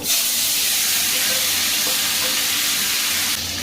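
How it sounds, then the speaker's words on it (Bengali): Chopped tomatoes poured into hot oil tempered with cardamom pods, setting off a loud, continuous sizzle and frying crackle that holds steady for a few seconds before easing, with no voices. "এলাচ থেকে সুন্দর গন্ধ বেরিয়ে গেলে টমেটোটা ঢেলে দেবো"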